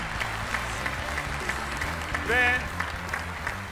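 Studio audience applauding the runner-up finalist Devrim Seyrek at the O Ses Türkiye final, a steady wash of clapping with a host's voice speaking over it.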